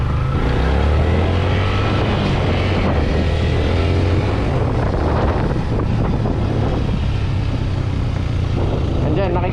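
A Yamaha Sniper 150 motorcycle downshifts under engine braking, with engine pitch shifting up and down beneath heavy wind rush. Loud, continuous noise sits close to the microphone.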